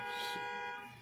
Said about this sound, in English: Josh, is that your car outside? Are they waiting for you honking